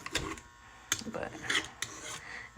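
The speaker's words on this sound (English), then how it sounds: "then just scrape all the little excess stuff that's there" Old finish is scraped off a kitchen surface in short, close, irregular strokes, giving about five or six scratchy rasps with brief gaps between them.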